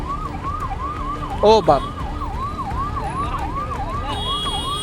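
An ambulance siren wails in a fast, repeating up-and-down cycle at a street protest in India. It sounds close and loud amid crowd noise, and a man briefly exclaims partway through.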